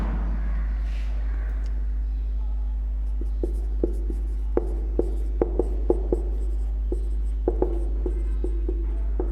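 A teacher writes Bengali words on a board during a ninth-grade grammar lesson: a series of sharp, distinct taps and strokes, close and fairly loud, over a steady low hum with no speech.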